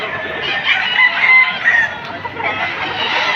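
A rooster crows at a gamefowl sale in Padre Garcia, Batangas. The long, loud crow fills the clip, with other fowl clucking close by.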